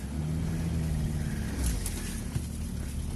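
A car engine drones in a low, heavy rumble close by, swelling slightly as it revs, steady throughout with a faint knock near the end and no talk over it.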